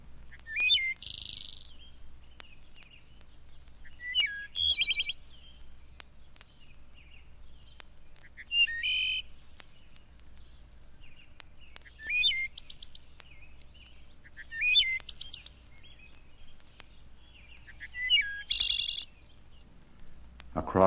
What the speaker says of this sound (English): Followed by the liquid phrases of the wood thrush